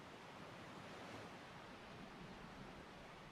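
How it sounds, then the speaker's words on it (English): Ocean waves lapping on a beach, a steady, faint wash of broadband surf noise rolling continuously without pause, with no voices over it. "Feel the freshness of the waves lapping up against your feet."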